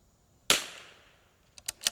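.22 LR rifle fired at a steel plate: one sharp, close crack with a decaying tail, followed about a second later by three quick faint ticks.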